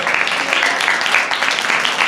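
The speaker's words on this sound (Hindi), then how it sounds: "ताली बजा के प्रभु की तारीफ।" A church congregation at a Christmas service claps in praise of the Lord, a dense, steady wash of many hands clapping continuously throughout.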